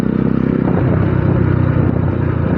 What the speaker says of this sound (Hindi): वो जो जा रहा है बाइक लेके, होंडा की है लगता है